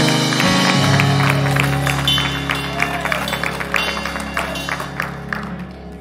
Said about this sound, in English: clap your hands, and give God a praise.